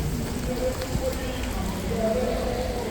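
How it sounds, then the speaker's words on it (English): Steady rain patters around someone walking outdoors near a subway entrance with an uncovered elevator, a constant wet hiss filling the background while a voice talks intermittently over it. "We're still going through rain."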